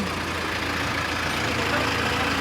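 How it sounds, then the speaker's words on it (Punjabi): A tractor engine running in second, medium gear, a loud continuous rumbling drone that holds steady throughout the short stretch. "ਇਹ ਚੱਲਦਾ ਹੈਗਾ ਦੂਜੇ ਮੀਡੀਅਮ ਗੇਅਰ 'ਚ ਕਿਉਂ ਜੇ ਜ਼ਿਆਦਾ ਭਜਾਉਣਾ ਫਿਰ ਦੂਜਾ ਟਰੈਕਟਰ ਨਹੀਂ ਰਲਦਾ"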